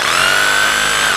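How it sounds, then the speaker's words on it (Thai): A Bosch GBH220 rotary hammer drill runs at steady full speed, producing a loud, dense whine with no change across the short burst. "ผมก็เจาะอย่างนี้นะครับ"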